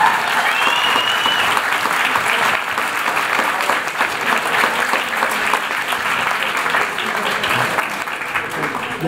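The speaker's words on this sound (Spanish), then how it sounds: "todos juntos vamos a aplaudir por todos los estudios." A large audience at a climate-change expert panel in Colombia applauds steadily, a dense, sustained wash of clapping that fills the whole stretch with only faint background voices.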